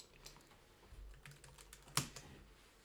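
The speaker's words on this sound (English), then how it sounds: "See how quickly I type waves then." Quiet, quick typing on a computer keyboard, with irregular soft key clicks and one sharper keystroke near the middle, heard alone.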